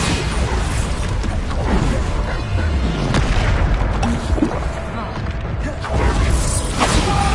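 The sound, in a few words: Bombarda exploding spell from a Harry Potter video game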